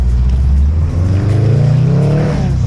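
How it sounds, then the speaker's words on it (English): A car revving hard while drifting in snow, a loud close engine rising in pitch with pulsing, wavering revs as the car slides. "Do a drift for the boys"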